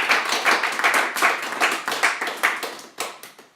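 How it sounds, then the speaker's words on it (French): A church congregation at a small home cell gathering claps together in praise, a loud, steady rhythmic run of hand claps about twice a second, no voices over it. "on acclame le Seigneur pour Mélodie"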